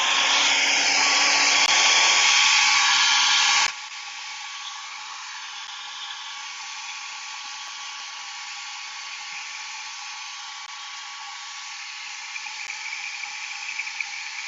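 A hair dryer blows steadily and loudly to dry paint on a craft project. Its tone shifts sharply a few seconds in, and it then keeps up a continuous whooshing hum.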